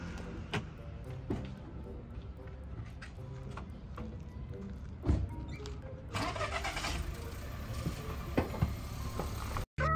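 A car engine cranks and fires up at close range, settling into a steady running hum with a few sharp knocks and clicks around it, and no talk over it.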